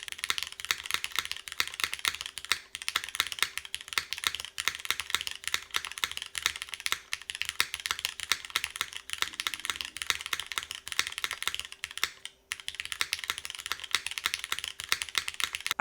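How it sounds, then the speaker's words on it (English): Steady, close typing on a mechanical keyboard built with an aluminum plate, MX2A switches and GMK keycaps, a dense stream of crisp individual keystrokes with a brief pause near the end, no talking. "So aluminum plate, MX2As, and GMK keycaps."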